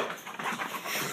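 A puppy pants in quick, breathy bursts with faint whimpering, close and fairly loud, with no talking.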